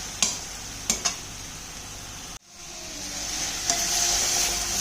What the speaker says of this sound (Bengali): এখানে কড়াইতে দিয়ে ভালো করে কষিয়ে নেব